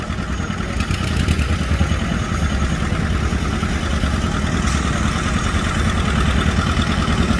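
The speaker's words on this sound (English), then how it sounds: "First tractor of this class, Peterbilt 1959 John Deere 730 diesel." A 1959 John Deere 730 diesel tractor roars under heavy load at a tractor pull, a loud, continuous, rough engine drone with clattering texture and no letup, heard up close without talk.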